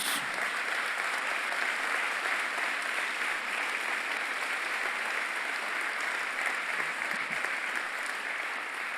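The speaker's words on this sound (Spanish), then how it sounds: "Dale un fuerte aplauso a Jesús." A church congregation at a Sunday evening service gives a long, steady round of applause, a dense, even wash of many hands clapping at moderate distance, with faint voices mixed underneath.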